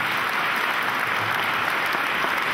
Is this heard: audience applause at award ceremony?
yes